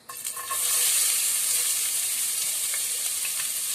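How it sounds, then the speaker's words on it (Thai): Shallots sizzle and crackle steadily as they stir-fry in a hot pan, starting with a brief rustle before a loud, continuous frying hiss with occasional faint clicks, no voices. "เราใส่หอมผัดเลยนะคะ"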